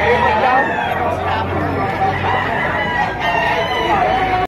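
A rooster crows at a busy market where chickens are sold, its call rising over constant crowd chatter and nearby voices.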